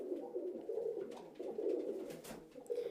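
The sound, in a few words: pigeons cooing in a breeding loft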